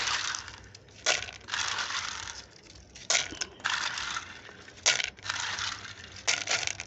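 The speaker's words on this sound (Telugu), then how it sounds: "పక్కన పెట్టుకున్న బాల్స్ అన్నీ కూడా మనం అందులో వేసేసుకోవాలి" Clay balls are poured into a plant pot partly filled with water for an indoor plant, producing rattling, crunchy bursts of pebbles tumbling in several pours with short gaps between.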